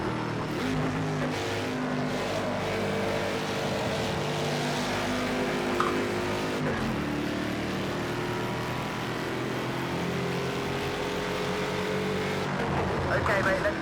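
A Mercedes-Benz 300 SEL racing at Silverstone in Project Cars 2 drones steadily under throttle, a continuous engine hum held throughout with slight pitch shifts, loud and close, with talk faintly mixed in.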